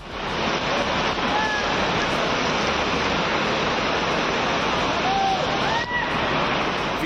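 Bada Mahadev waterfall in Mandsaur, India, overflowing after heavy rain, a loud, constant roar of rushing water with faint chirps or whistles briefly rising above it.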